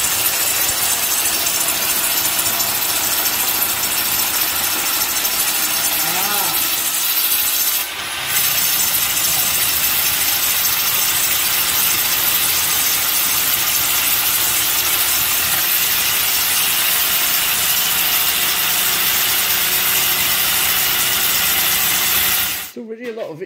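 A power drill bores steadily into material during a chateau DIY renovation, a loud continuous grinding whine that briefly pauses midway, then resumes until it cuts out near the end; speech occurs faintly.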